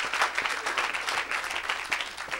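A church congregation applauding during a Sunday worship service, steady, dense clapping from many hands that fills the room at moderate loudness with no break.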